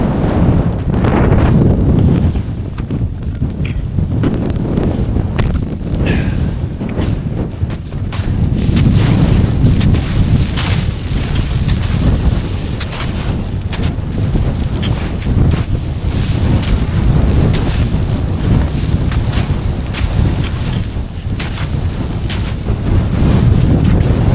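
Strong wind buffets the microphone on a winter mountain ridge at Ben Lui in the Scottish Highlands, a loud, continuous low roar with surging gusts and no voices.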